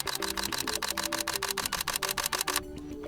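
A Sony A6400 fires a rapid, evenly spaced burst of shutter clicks in panorama mode, close and crisp, for about two and a half seconds before stopping.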